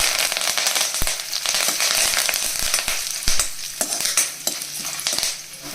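Curry leaves spitting and crackling in hot oil for a chutney tempering, a dense, continuous sizzle with sharp pops and a few stirring clinks close by, no talk.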